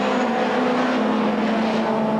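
A Ford Sierra Turbo race car drones past at Oulton Park in a 1990 British Touring Car Championship round, its engine a loud, sustained, steady tone filling the whole moment.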